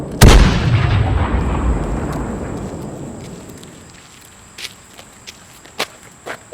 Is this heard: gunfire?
yes